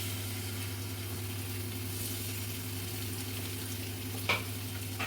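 Ginger, garlic and chili fry with onion in a little oil, making a faint, steady sizzle over a constant low hum, with one brief clink near the end.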